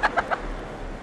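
Rooster clucking from someone's lap inside a car, three short loud clucks in quick succession near the start, followed by a quiet car-interior hum.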